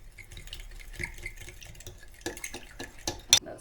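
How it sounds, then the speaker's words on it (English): A fork stirs sweet and sour sauce for tofu in a bowl, giving quiet irregular clinks and soft wet scraping, with a sharper tap near the end. "Gonna mix the sauce with a fork"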